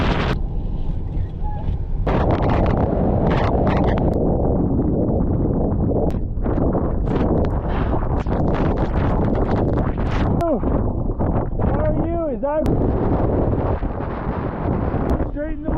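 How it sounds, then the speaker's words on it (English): Strong winter wind buffets a vehicle pushing through snow drifts on a snowy road, a loud, steady broadband roar that fills the whole stretch, with brief voices near the end. "it's a little bit windy out there"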